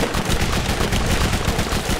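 An explosive weapon fires in a zombie video game, a dense, loud stretch of rapid blasts and crackling bursts with no pause.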